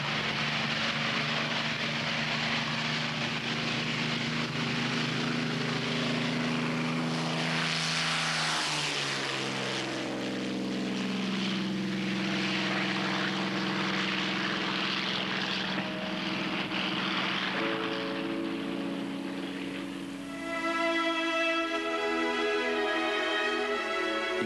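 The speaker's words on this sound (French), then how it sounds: "Allez, les gaz, et on décolle. 2800 tours, 2900," Spitfire engine opened to full throttle on takeoff, a loud continuous propeller roar whose tone shifts and climbs as the revs build, heard alone without voices.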